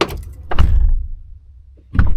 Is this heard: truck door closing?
yes